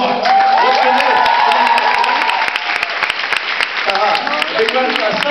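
A studio audience applauds a departing guest from Morocco: loud, dense clapping runs for several seconds, with a few cheers and a voice talking over it toward the end.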